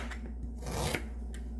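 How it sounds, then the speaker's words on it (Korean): Fresh ginger is cut with a knife in a home kitchen: a quiet rasping slice or two against the root and board, soft and close, over a low steady hum. "그래서 좀 갈기 편하게 잘라주겠습니다."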